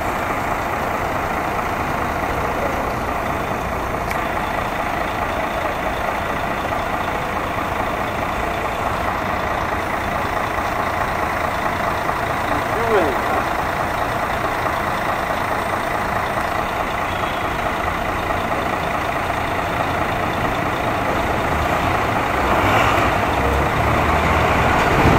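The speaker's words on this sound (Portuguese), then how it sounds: "Então ele está suspendendo o eixo lá" Mercedes-Benz Actros truck idling steadily while its Disconnected Liftable Tandem rear axle is raised, a constant loud diesel rumble with a faint brief hiss partway through and no voices.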